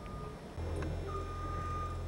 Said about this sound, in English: I'm so sick of hearing them banging and the beep, beep, beep, beep.